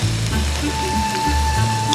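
Pork steak sizzling in a pan with butter and garlic, a steady close hiss of frying that runs continuously throughout, with someone speaking quietly over it.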